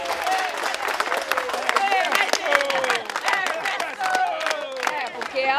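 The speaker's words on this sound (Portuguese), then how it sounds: "vamos aplaudir o Exército" Audience applauding the Army at an event with children and parents, a dense, steady crowd clapping that stays loud throughout with a few whistles and cheers mixed in.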